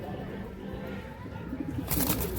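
A Chennai pigeon, a male held in the hand at a loft, gives soft low cooing with faint rustling, ending in a louder burst of handling noise.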